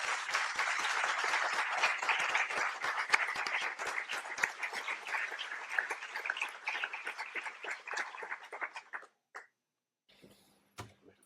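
An audience applauds the team behind a historical dramatization podcast with a sustained burst of loud clapping that thins out and fades, leaving a few scattered claps before falling nearly silent.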